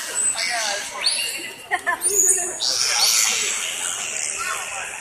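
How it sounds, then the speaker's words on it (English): A chorus of high, squeaky whistles, chirps and rapid clicking from dolphins, busy and layered, with a few sharper squawk-like bursts near the middle. "We have everything from clicks to whistles to squawking sounds."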